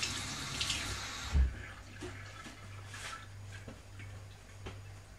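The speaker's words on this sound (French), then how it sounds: "je vais me laver mes mains un petit peu parce que là, j'aime pas trop d'avoir ça. Je vais mouiller à mes mains." Tap water running over hands being washed at a sink in a kitchen while making a coconut Yule log cake, a soft steady trickle with light splashes and faint clicks, fairly quiet.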